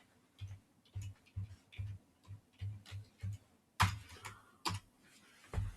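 Someone typing a password on a computer keyboard, a close run of quiet, irregularly spaced keystroke clicks with a couple of sharper, louder taps; no talk.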